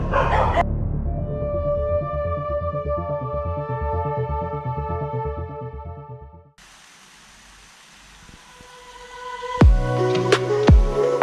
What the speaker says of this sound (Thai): ฟังเสียงหมา